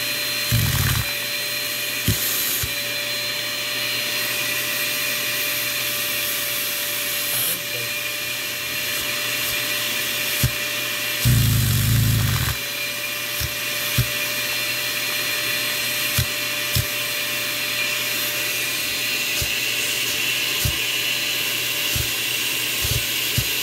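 A homemade Lego piston vacuum motor with a turbine runs steadily at close range, giving a continuous whirring drone with a persistent tone, a louder rough burst near the middle, and small clicks throughout.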